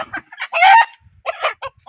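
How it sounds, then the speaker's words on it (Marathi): A hen clucks and squawks loudly and close up while being caught, a series of agitated, uneven calls with one longer drawn-out screech in the middle. "कोंबडीला धरायला लागलोय"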